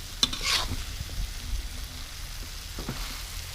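Marinated pork and glass noodles are stir-fried in a pan, with a spatula scraping and clacking against the metal over a soft sizzle, the strokes uneven and close.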